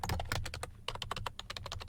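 Rapid typing on a computer keyboard, close and crisp, with a quick burst of keystrokes, a brief pause, then another steady run of clicks with no voices.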